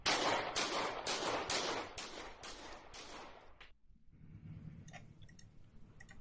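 A rapid run of about eight sharp gunshots fired from a first-person view near a burning truck, loud and evenly spaced, then cutting off into quieter rumbling background with faint distant pops.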